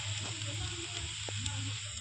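Food cooking over a campfire in the survival game Last Island of Survival, a steady soft sizzle and crackle of frying with a faint low hum beneath, quiet and continuous.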